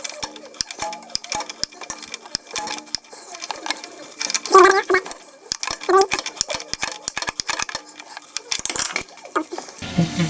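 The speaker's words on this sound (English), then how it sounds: "Now let's just give it a little final pull to torque it." A torque wrench tightens bolts to 25 Newton meters during an oil change on an R50 Mini, heard as rapid, close ratcheting clicks and sharp metallic clinks in irregular bursts.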